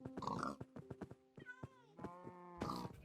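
Several short pig grunts and oinks from Minecraft pigs, close and clear, come in quick irregular bursts with brief gaps between them.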